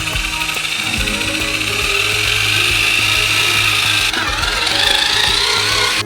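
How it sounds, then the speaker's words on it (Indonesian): A large mixer churning dough for a giant homemade Kinder Country treat, a loud continuous mechanical grinding and whirring with a rattling, gear-like texture that shifts slightly in pitch partway through. "Dan sekarang semua ini perlu dicampur dengan mixer besar."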